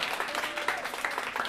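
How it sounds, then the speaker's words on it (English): A crowd at a 60th birthday celebration clapping steadily, warm applause from many hands filling the space. "can you give a round of applause to my mom?"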